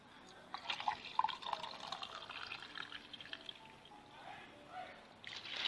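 Water poured into a pot for mutton pulao, a faint splashing trickle of liquid from a glass, close by and quiet, with someone speaking over it.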